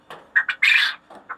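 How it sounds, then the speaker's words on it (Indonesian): Pet quail calling at night, a few sharp squawking bursts close by, one long loud call in the middle and a short softer call at the end, with quiet between. "Dimana burung puyuh ini malam hari kayaknya kelihatannya besar sekali dah suaranya."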